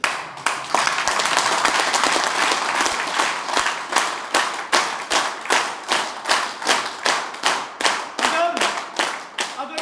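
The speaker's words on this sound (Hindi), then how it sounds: "ये डिस्काउंट वाला ताली नहीं चाहिए।" Audience clapping in unison at a business talk, loud rhythmic claps in a steady, evenly spaced beat throughout, with faint voices underneath.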